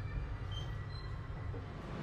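The KA Ranggajati train rolls into Madiun station with a steady low rumble of wheels and carriage noise, continuous and fairly close, with no talking.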